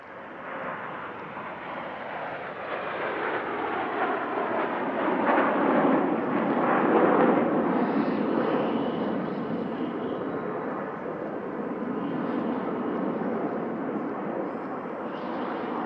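Patrouille de France Alpha Jet formation flying a display at the Paris-Villaroche airshow, a loud sustained jet roar that swells to a peak midway and then eases, steady throughout with no talk.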